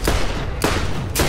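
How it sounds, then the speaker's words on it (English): A deployed turret fires in Borderlands, loud sharp gunshots coming in three quick bursts over dense combat noise. "I'm gonna throw down my turret. Maybe that'll do something."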